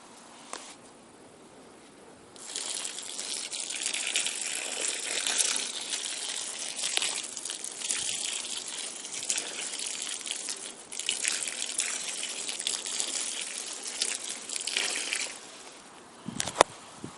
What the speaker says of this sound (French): je vais maintenant arroser abondamment le sol de manière à ce que l'engrais se disperse bien au pied des racines